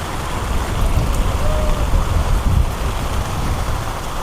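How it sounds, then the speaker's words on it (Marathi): Heavy rain pours steadily at a beach, a dense, loud wash of drops and wind buffeting close to the microphone throughout. "मित्रांनो, पाऊस खूप जोरात आलाय"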